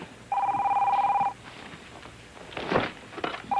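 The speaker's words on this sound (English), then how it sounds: "let me get the phone here" A telephone rings with one loud electronic trill lasting about a second, then a pause filled with faint background noise and rustling, and a second ring begins at the very end.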